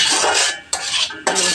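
Spoon stirring and scraping chilli-powder spice paste frying in a pan, three bursts of broadband sizzle and metallic scraping separated by brief quieter gaps, close and fairly loud.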